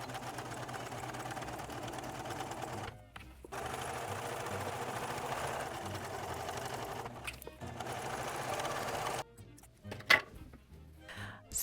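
A sewing machine runs steadily, top stitching around a vintage-pattern dress in thrifted fabric, with a continuous mechanical whir broken by brief pauses and a few soft clicks near the end.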